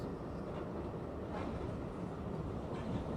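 A train rolls along the rails at night, a steady low rumble and clatter heard from inside the carriage, faint and continuous with no talking.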